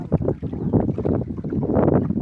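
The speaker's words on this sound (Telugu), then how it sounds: "ఇదో పక్కనే తుఫాను ఓరోరు గాలి వేస్తుంది" Strong cyclone wind gusts beside a fishing pond, a loud, continuous roaring rush with buffeting bursts that batter the microphone throughout.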